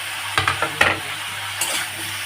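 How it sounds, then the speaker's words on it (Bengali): Spices and tomato sautéing in a pan with turmeric powder, with soft stirring scrapes and brief sizzling bursts at a moderate level, no talking. "এখন আমি সুন্দর করে এটাকে কষিয়ে নিব।"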